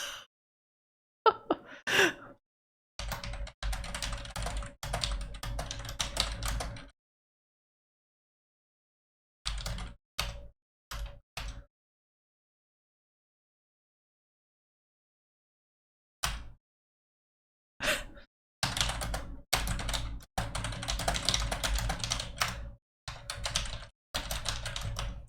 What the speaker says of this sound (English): Loud typing noises.